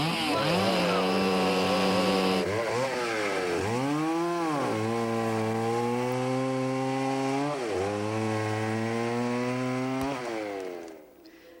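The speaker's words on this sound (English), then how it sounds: "This was the most common sound heard in the days following the ice storm." A chainsaw cuts tree limbs after an ice storm, running loudly and steadily, its engine pitch dipping and rising as it bogs into wood and revs back up, then cuts off at the end.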